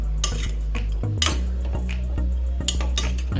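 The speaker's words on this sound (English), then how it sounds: "continue stirring for a couple of more minutes until you feel that the vegetables are cooked enough" Vegetables stirred in a pan for a stir fry give repeated close metallic scrapes and clinks of a utensil against the pan over a low hum and faint sizzle.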